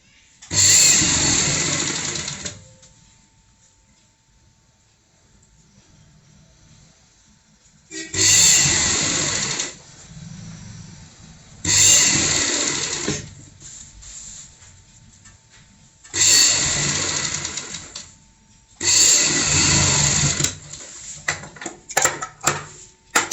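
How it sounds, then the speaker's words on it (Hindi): A sewing machine stitches a pillow cover in five separate bursts of steady motor whirring, each lasting a couple of seconds, with quiet pauses in between and no talking. "हल्के हाथों से ऐसे ही रखते हुए सिलाई लगानी है"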